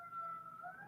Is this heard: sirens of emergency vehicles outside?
yes